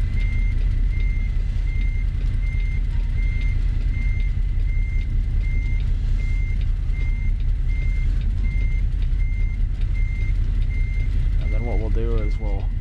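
A truck backing around a building sounds a loud, evenly spaced reversing beep over a deep, rumbling idling engine, with a voice briefly heard near the end.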